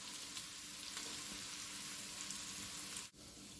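Chopped ingredients for an Egyptian luncheon meat salad sizzle steadily in a pan over low heat, a continuous close frying hiss with faint stirring, briefly cut by a short dip near the end.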